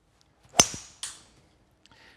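A golf ball struck with a 5 hybrid club outdoors, one sharp, loud close crack followed by a second fainter snap a moment later, then quiet.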